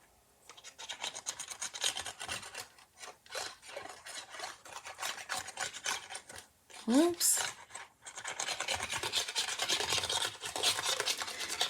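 A fingertip or tool rubs across the raised ridges of an embossed paper card layer, making close, rasping, scratchy strokes in repeated bursts, with a brief spoken word partway through.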